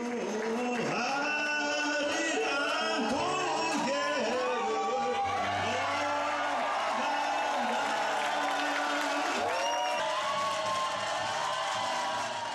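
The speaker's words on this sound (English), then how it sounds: "The cheers and applause for a traveler from far away." Audience cheering and applause in Argentina for a traveler from far away, a Korean who just performed the folk song arirang; dense crowd noise with whoops and clapping runs steadily throughout, with singing or voices layered over it.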